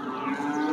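A cow at a cattle market lets out one short, loud, low moo nearby.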